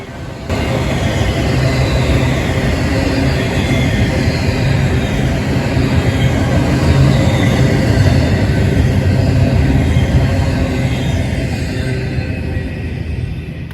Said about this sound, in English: one of the locomotives given the classic shrill whine of an EMD 710 prime mover being pushed to its absolute limit